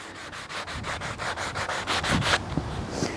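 An axe handle is sanded with coarse 60 grit sandpaper to repair a chipped section, producing quick, rhythmic back-and-forth scratching strokes heard up close for about three seconds with no talk.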